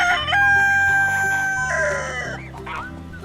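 A voice imitates a rooster's crow, one long drawn-out call rising and falling, close and loud over steady background music.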